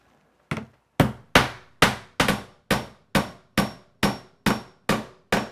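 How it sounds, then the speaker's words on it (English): Twelve sharp, evenly spaced hammer blows drive a nail into wooden door casing, each strike close and loud with a brief ringing decay, following a slightly softer first tap. "I'm going to put a nail right here."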